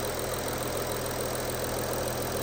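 A just-started Audi A6 C7 engine runs at a steady, even idle, a continuous close mechanical hum with a faint rhythmic knock and no voices.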